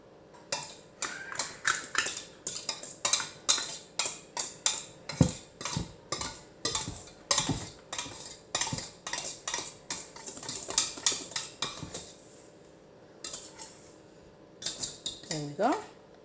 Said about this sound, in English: it's like we're sifting our dry ingredients with the whisk